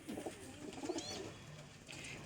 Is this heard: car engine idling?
no